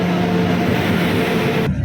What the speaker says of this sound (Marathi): एक ट्रेन आली आहे, तर ही कोणती आहे?